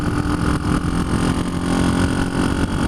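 A 1976 Honda CB125S motorcycle engine drones steadily and loudly while riding, the note rising and falling slightly as gears are shifted down, with heavy wind rush.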